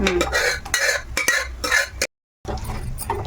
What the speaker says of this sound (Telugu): 2 మిక్స్ చేసేసుకుంటున్నాను